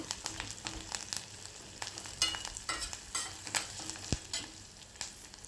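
Tempering spices crackle and sizzle in hot oil for Andhra-style dal with intermittent sharp pops, alongside scraping and stirring noises; no voices.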